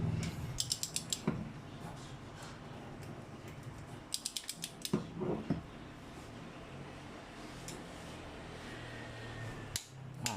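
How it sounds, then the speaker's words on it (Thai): Bursts of sharp mechanical clicks from a torque wrench tightening cylinder head bolts on a Toyota Corolla Altis Dual VVT-i ZR-series engine, several quick clicks in clusters with pauses between, close by over faint background noise. "โอเคครับดังแป๊กแป๊กแล้วครับ ก็อย่าฝืนต่อนะครับ"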